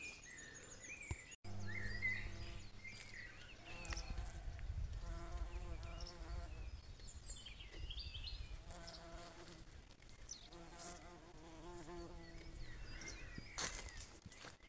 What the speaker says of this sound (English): The bees love it